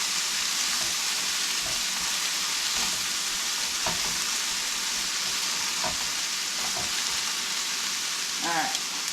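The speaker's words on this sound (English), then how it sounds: "I'm going to stir the peppers up a little bit." Peppers fry in a pan with an unbroken loud sizzle, while a spoon stirs them in scattered scraping knocks every second or so, and a brief higher squeak or clatter comes near the end.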